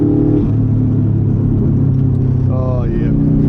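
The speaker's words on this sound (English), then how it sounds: "You just want to rev it and then decelerate so you can hear that beautiful engine" A Subaru STI V2 555 edition engine hums steadily while driving, then revs up and falls back as it decelerates, with the rising and dropping pitch of the sweep clearly audible over a constant cabin rumble.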